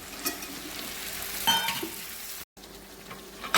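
Brinjal pieces fry in a pan with tomato, chili powder and pepper powder, making a constant close hissing sizzle with a stirring scrape partway through and a brief cut near the end.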